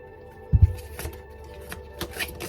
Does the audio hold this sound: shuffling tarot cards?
yes